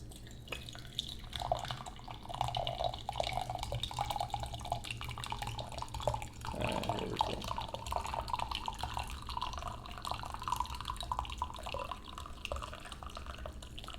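Brewed white tea pours out of a very hot teapot in a soft, continuous trickle with light dripping, quiet and close, with no voices.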